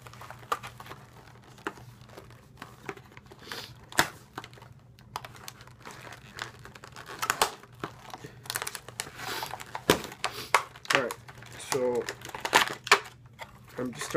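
Nerf Rebelle blaster packaging ripped apart during an unboxing: close, scattered crinkling of plastic and cardboard with sharp tearing snaps and rustles, growing busier toward the end.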